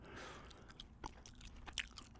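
Gum chewed close to the mouth in a quiet room, with soft wet smacks and clicks repeating irregularly over a low hiss.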